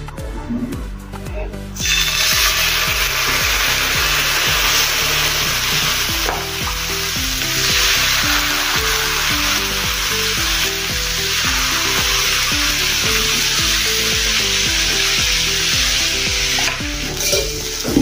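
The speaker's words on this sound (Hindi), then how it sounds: "अभी हम जो तैयार किए थे बैटर आटे का वो हम इसमें डाल देंगे।" Wheat flour dosa batter sizzles loudly and steadily on a hot tawa, a bright continuous hiss with scraping and clattering on top of a faint background tune.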